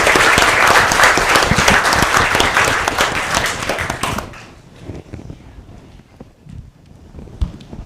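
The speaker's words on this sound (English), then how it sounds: "Give them a round of applause again" Audience clapping for a student team after its pitch at a hackathon finals, loud dense applause for about four seconds that cuts off abruptly into quiet room noise with faint knocks.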